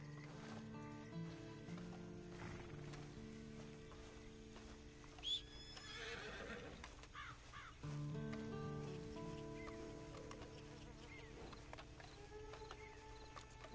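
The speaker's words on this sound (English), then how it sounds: "Then you better get on this horse." A horse neighs once, then hooves clip-clop at a moderate distance, quiet and set under a sustained musical score.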